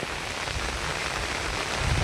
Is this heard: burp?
no